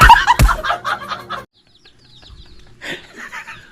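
A chicken clucks in a quick series of close, throaty notes, then a short pause before more soft clucking.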